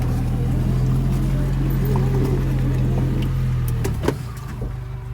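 A Suzuki 4x4 drives forward in gear to assist its low-mounted winch, giving a steady, loud engine and drivetrain drone that holds throughout, with a brief clunk near the end as the rumble eases.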